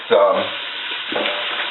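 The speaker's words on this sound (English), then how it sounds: "this sausage is browning" Sausage browning in a pan for kale soup gives a steady, close sizzle that runs through the whole short moment, with a slightly louder burst near the start.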